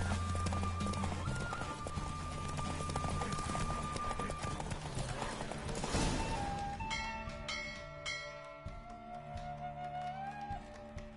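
Rapid hoofbeats of a galloping horse in The Witcher 3 run continuously under game-style music and effects, with a faint voice in places.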